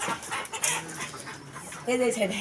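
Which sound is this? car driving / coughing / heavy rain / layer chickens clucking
layer chickens clucking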